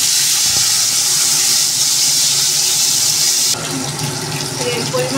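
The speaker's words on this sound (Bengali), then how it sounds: "শুকনো লঙ্কা আর এই যে গোটা জিরে, ওখানে 5 ফোড়ন দিচ্ছি" Dried red chillies and whole cumin seeds spluttering in hot oil for a Bengali fish curry, a loud continuous sizzling hiss close up that drops slightly in intensity partway through.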